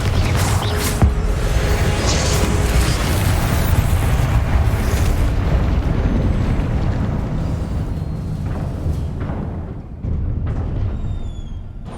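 Confringo blasting-spell explosions in Hogwarts Legacy, making a loud, continuous roaring boom of fiery blasts and debris that eases off near the end before flaring briefly again.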